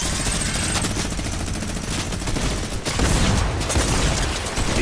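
Video game gunfire, a dense, continuous barrage of rapid automatic shots and booms, loud and close, sustained across the whole stretch with no pauses.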